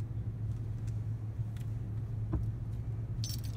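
A large car being driven, giving a steady low engine rumble throughout with a few faint clicks and rattles on top, no voices.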